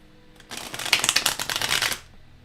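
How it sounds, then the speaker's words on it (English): A stiff tarot card deck is riffled and shuffled close up in one dense burst of crisp, rapid card flutter lasting about a second and a half, with no talk over it. "So it's quite the stiff shuffle."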